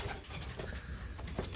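Several pigeons cooing together in a loft, a dense overlapping murmur of soft throaty coos heard up close, with no talk.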